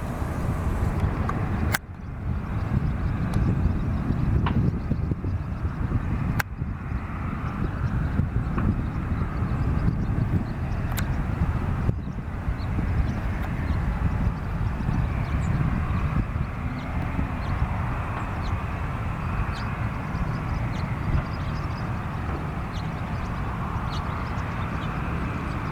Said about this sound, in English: There goes the Icelandair